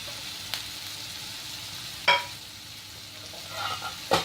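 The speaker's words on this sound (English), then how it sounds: "We mix all of this up well." Cauliflower and its leaves frying with green chilies in a pan over a slow to medium flame, a steady soft sizzle with a few sharp scraping stirs of a spoon, no voices.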